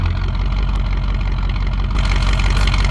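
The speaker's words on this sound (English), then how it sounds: "I'm not going to turn the engine off. I'm just going to step out." A car engine idling in the video game Survive The Nights, a loud, steady low rumble with constant throbbing vibration, close by and uninterrupted, with a slight rise in higher-pitched noise toward the end.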